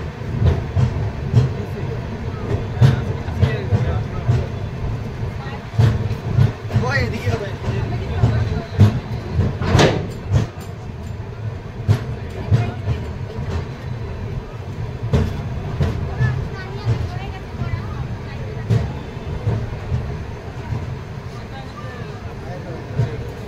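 The Padatik Express rumbles and clatters steadily as it pulls into New Cooch Behar, heard from inside a crowded coach. A dense babble of passengers' voices runs under the constant train noise.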